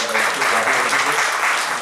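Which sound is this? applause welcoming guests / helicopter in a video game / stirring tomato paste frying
applause welcoming guests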